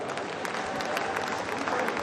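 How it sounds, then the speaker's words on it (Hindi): Audience clapping steadily at a BJP political rally in Rajasthan, a dense crowd-wide patter at moderate distance, continuous and without voices over it. "आप लोग ताली बजा रहे हो"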